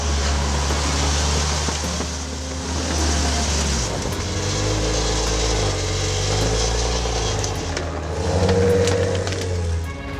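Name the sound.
Maserati Levante SUV engine accelerating, throaty exhaust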